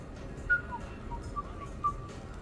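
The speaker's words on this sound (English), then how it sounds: "Are you whistling?" Whistling in a video game on the Citadel in Mass Effect, three short, thin whistled notes over a low background hum, fairly faint.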